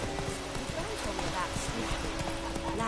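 Horse hooves gallop in a steady rapid clip-clop rhythm across the whole stretch in The Witcher video game, set against a dense bed of game ambience and music.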